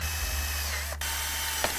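A hole is drilled in a hose on a crash-damaged BMW S1000RR motorcycle, a steady close mechanical whir running throughout, broken by two brief clicks and no speech.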